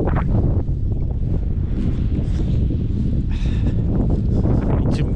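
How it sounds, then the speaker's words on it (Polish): Strong wind blowing over open snow-covered fields on a freezing winter day, a loud, constant roar buffeting the microphone with rumbling gusts and no voices. "ale wieje."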